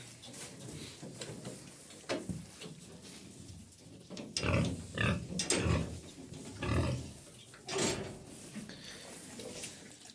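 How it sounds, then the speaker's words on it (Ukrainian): Several low, throaty grunts from a sow come in bursts, fairly close, with short pauses between them and some background rustling. "Та свиноматка хоче води."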